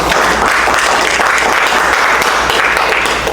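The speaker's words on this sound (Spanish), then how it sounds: "Bríndele un aplauso al Señor" A congregation applauds steadily during a church class, a loud, dense wash of clapping that holds at full strength without pause from start to finish.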